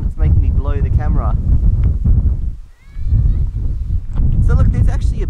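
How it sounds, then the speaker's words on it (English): Gusty wind buffets a camera microphone at a coastal lookout, producing a heavy low rumble that dips briefly midway, with a person's voice talking over it. "A little bit windy though, and it's making me blow the camera."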